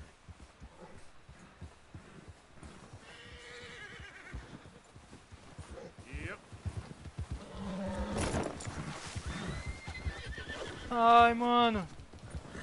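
Horse hooves clop in Red Dead Redemption 2, quiet at first and growing louder, ending in a loud whinny near the end, with someone speaking over the game sound.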